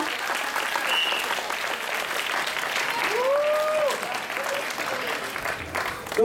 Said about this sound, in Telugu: ఏదో ఒకసారి అందరూ చప్పట్లు కొట్టండి ఆమె కోసం